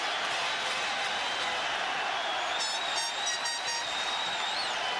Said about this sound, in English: And the crowd is back in it.